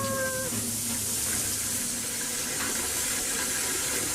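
Water pours steadily into an old tin bath in a cartoon scene, a constant rushing splash, loud and close, lasting throughout with a brief high tone at the start.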